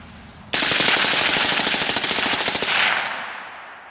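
An M16 or M4 rifle with a strip of bacon wrapped around its barrel fires a long, rapid full-auto burst, loud and close, with rhythmic shots for about two seconds before the sound fades out.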